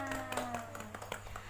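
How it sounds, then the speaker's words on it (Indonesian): Children in a classroom clap for a classmate, a scattered, light patter of small hands, fairly faint and brief, with a steady low hum behind it. "Tepuk tangan buat Uswatun Hasanah."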